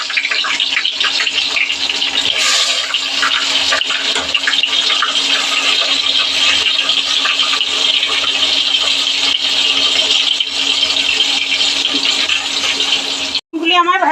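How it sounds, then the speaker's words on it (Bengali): Eggplant pieces fry in mustard oil tempered with nigella seeds in a wok, producing a loud, close, continuous crackling sizzle that holds steady for a long stretch before a brief break and restart. "এবার বেগুনগুলি ভেজে নেব।"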